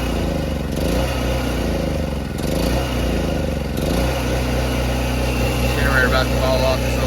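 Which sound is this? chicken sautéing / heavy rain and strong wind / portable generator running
portable generator running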